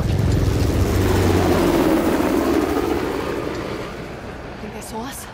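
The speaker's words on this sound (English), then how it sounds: "How the hell did Asov get that helicopter?" Helicopter flying in an Uncharted game scene, a loud continuous rotor and engine roar that slowly fades as it moves away, with characters talking over it.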